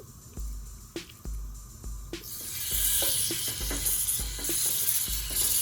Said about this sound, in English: So right now I'm going to put the chicken to fry.